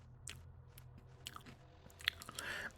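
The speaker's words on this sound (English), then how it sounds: "I'm doing some cereal chewing ASMR for you now." Someone chews crunchy breakfast cereal close to a microphone, soft irregular crunches and bites that sharpen toward the end, quiet and without speech.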